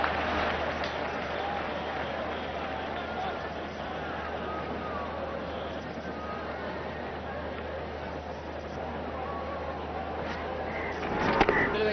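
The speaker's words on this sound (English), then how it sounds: "Excitement in the crowd" Stadium crowd at an India versus Australia one-day cricket match in Gwalior, 2003, roars in a steady, dense wall of cheering and babble that swells slightly near the end, with no talk over it.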